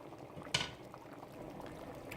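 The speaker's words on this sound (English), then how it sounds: "I'm going to let that simmer for about 20 minutes and then see what it looks like" Chicken fajita soup with brown rice simmering in a pot on a stovetop at medium heat, a quiet steady bubbling with one brief louder clink or pop near the start.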